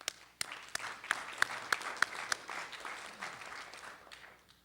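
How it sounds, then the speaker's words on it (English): Audience applause at a regional internet registry general meeting, a moderate, steady patter of clapping across the room with a few sharper individual claps standing out, fading slightly toward the end. "they deserve the applause"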